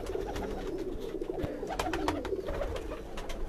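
Pigeons coo softly on a rooftop, their low repeated calls sitting under a constant hum of outdoor background noise, with a few faint clicks and flutters and nobody speaking.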